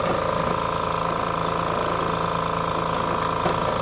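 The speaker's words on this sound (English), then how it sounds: "compared to the air being let out, this is how quiet this air compressor is." A quiet 1-gallon, 120 psi air compressor runs and fills its tank with a steady, even motor hum and a faint whine, holding at one level throughout.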